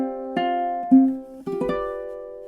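Ukulele picks measure 16 of a lullaby: a few plucked notes and a gentle strum ringing out in a quiet room, close and soft, unaccompanied.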